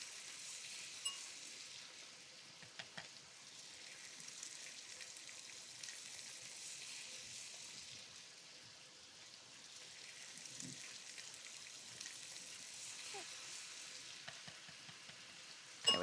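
Sausage meat frying in a pan gives off a quiet, steady sizzle with small crackles and pops for the whole stretch, and no voices come through.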